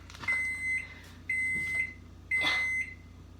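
A kitchen oven signalling it has finished preheating, giving three evenly spaced high electronic beeps, each about half a second long, fairly close in a quiet room with faint background hum.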